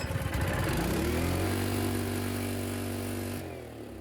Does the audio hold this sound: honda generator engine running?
yes